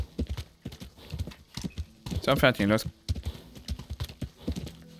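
Horse hooves clip-clop at a steady trot in the medieval video game Kingdom Come: Deliverance, close and rhythmic throughout, with a brief horse whinny and someone talking over it.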